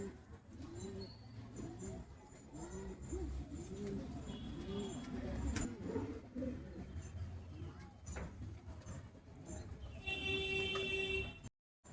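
Three pigeons, a male and two females, coo in repeated rolling calls close by, with a faint horn and other background noise.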